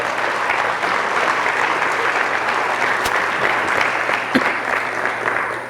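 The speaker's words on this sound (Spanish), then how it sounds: "Denle el aplauso si quieren." A church congregation breaks into applause during a sermon, a loud, steady, full wash of clapping hands sustained throughout with a couple of sharper knocks.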